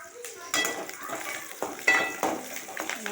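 Onions sauté in hot oil in a pan, a steady sizzle broken by repeated scraping stirs of the spoon against the metal, close and fairly loud.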